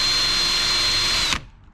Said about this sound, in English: I'm gonna take that 1/8 inch drill bit,